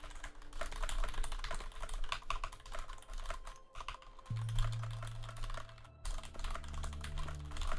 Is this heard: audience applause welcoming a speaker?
no